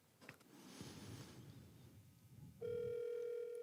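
A phone call rings out through a handset, a steady electronic ring tone starting after a moment of quiet room noise, close and clear.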